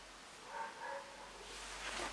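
A dog barks a couple of times indoors, faint and somewhat distant, in short yips over a quiet background hum.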